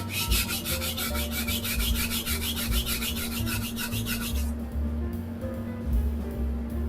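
A thin knife blade gets a quick run of rhythmic rasping strokes across a sharpening stone, close and bright, and then stops, leaving a quiet room hum.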